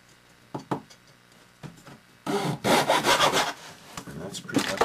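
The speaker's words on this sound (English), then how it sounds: "I'm going to cut it probably 1/4 inch shorter on each side" A hand saw cuts a small wood piece for a 28mm miniature post-and-beam barn, a few light scraping strokes giving way to a quick run of loud, rhythmic back-and-forth rasping close by.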